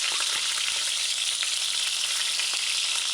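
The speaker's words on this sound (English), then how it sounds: "Add the garlic." Garlic frying in a pan for a chicken rundung coconut stew gives a steady, loud, close sizzle with faint crackles scattered through it and no pauses.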